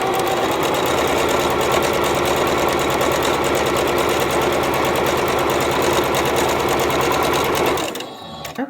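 A sewing machine stitches fabric squares for quilt half-square triangles in a continuous rapid, even chatter, loud and close, stopping abruptly near the end.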